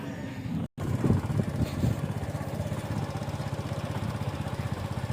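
A motorcycle engine putters steadily while riding through a goat market in Shahpur Kanjra, a close, rhythmic low thrum with a brief cutout early on.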